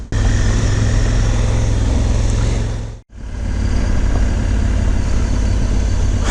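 Honda Africa Twin DCT motorcycle riding on a gravel road, a loud steady engine drone mixed with wind and road rumble, briefly cutting out midway before resuming.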